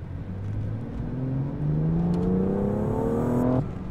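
BMW M2 coupe engine revving hard while driving, a steady rising drone climbing in pitch for several seconds from inside the car, then cutting off sharply, with no talk over it.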